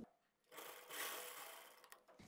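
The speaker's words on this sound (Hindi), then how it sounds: "फ्रंट वाली साइड से सिलाई लगाएंगे" A sewing machine runs steadily, stitching a draped skirt from the front side, with a close, continuous motor whir lasting about two seconds after a quiet start.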